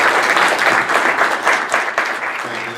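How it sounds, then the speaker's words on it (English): An audience claps warmly, a dense wash of applause from many hands that holds steady before beginning to taper. "Join me a warm round of applause for Andrew Schneider."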